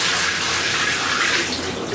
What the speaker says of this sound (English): We're bailing water.